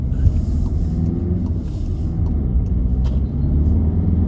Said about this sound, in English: So up through the gears, third gear, fourth gear, we're just over 45 miles an hour now.